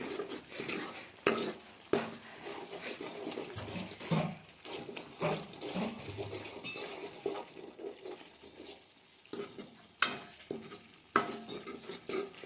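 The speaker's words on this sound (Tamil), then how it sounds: "இப்போ இதை நல்லா கலந்து விட்டுறலாம்" A spoon stirs spices and asafoetida in a pan while making tomato drumstick curry, giving intermittent scraping and clinking strokes with short, louder clatters between quieter passes.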